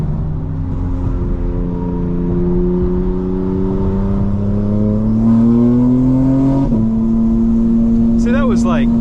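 Intake and engine note from a 2024 BMW M4 Competition xDrive (G82) at partial throttle, a steady close-up drone that climbs in pitch before a shift, then settles lower and smooth.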